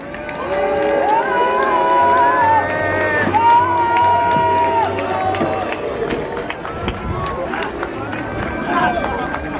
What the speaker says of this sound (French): Merci pour les applaudissements et quelques-uns pour les huées